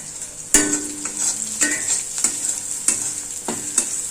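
Dried vathal frying in sesame oil, with a crisp sizzle behind a series of loud, close spoon clacks and scrapes against the pan at irregular intervals.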